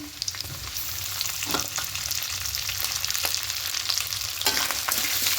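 Grated coconut frying in a pan for a vegetarian taro-leaf dish, a close, continuous sizzle with scraping stirs and occasional louder crackling bursts, no voices.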